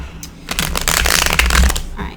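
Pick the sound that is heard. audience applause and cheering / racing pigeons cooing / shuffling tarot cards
shuffling tarot cards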